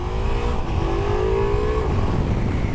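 A Ducati Multistrada V4 motorcycle engine revs steadily at close range, its tone rising and falling through a continuous, loud drone with no talking over it.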